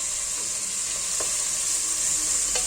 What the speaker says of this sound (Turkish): Şimdi biraz da sebzeleri kavuracağım.